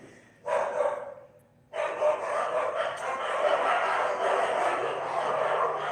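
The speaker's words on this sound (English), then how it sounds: "You hear them dogs barking?" German shepherd dogs bark in a nearby yard, a sustained noisy chorus that cuts in briefly, pauses, then carries on at moderate volume.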